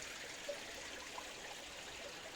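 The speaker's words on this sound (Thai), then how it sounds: "น้ำไหลจกจกจกจก น้ำไหลจกจกเลย" Water streams and trickles steadily over rock channels in Kut Chum, Yasothon, Thailand, a soft, continuous babble at moderate distance, with no one speaking.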